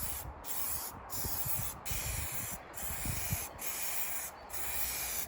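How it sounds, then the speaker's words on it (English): Repeated bursts of aerosol clear coat spray onto a headlight hiss steadily, each pass lasting under a second, with short gaps between them, close and fairly loud. "Then spray our first light coat of the clear."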